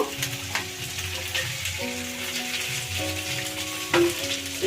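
Tandoori chicken pieces sizzle steadily in a pan on a gas oven as they are flipped, a close, continuous frying hiss with faint stirring and scraping and no talk.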